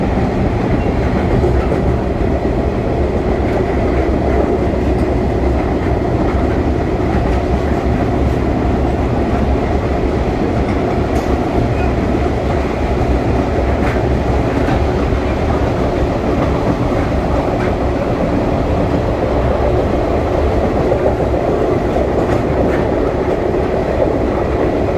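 An Alaska Railroad Denali Star train rolls through the Alaskan countryside with a steady, loud rumble and continuous clickety-clack of wheels on track, heard from on board.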